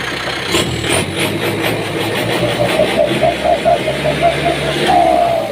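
Kubota L5018 tractor fitted with a turbo, its engine revved with no load, rising and falling in loud close bursts with a whistling turbo spool building near the end, with someone talking over it.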